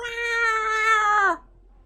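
A single clear cat meow in the Choices: Stories You Play video game, close and tonal, holding steady for about a second before sliding down and cutting off into silence.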